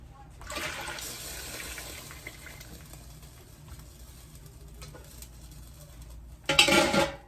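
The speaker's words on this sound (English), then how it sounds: "So I'm gonna have to add some water" Water pours steadily into a large canning pot of pint jars while making peach butter, a soft continuous stream that ends in a brief louder splash and clatter.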